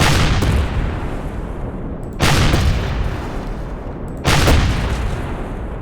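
Rockets and cannons fire in the Empyrion space game as a loud, dense barrage of booms, with two sharp bursts standing out about two seconds apart.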